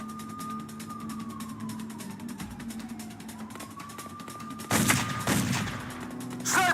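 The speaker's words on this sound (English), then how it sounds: "Snipers, commence fire!" Gunfire in the PS2 game Made Man, rapid crackling shots running under a wailing siren and engine hum, then a louder, denser burst of fire toward the end.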